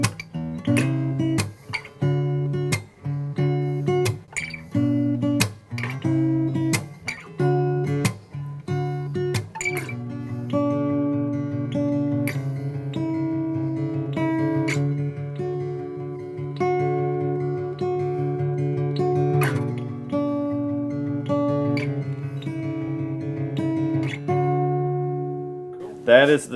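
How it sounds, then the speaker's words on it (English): An acoustic guitar rings out in Eastern Kentucky bluegrass style, with crisp picked notes and strummed chords in a lively rhythm at first, then longer sustained chords, close and clear with no talking. "That is the sound of Eastern Kentucky bluegrass."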